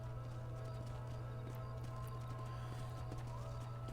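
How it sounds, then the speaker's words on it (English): A horse in Red Dead Redemption clip-clops along as a faint, steady patter of hoof steps over a constant low hum and soft game ambience, with no talking. "With a black horse like that,"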